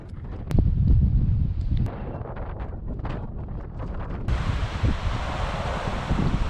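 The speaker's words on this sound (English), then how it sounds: "we're having a little bit of difficulty even walking against the wind here" Strong wind buffets the microphone on a coastal walk on Anglesey, roaring loudly and continuously, with rustling and gusts building toward the end.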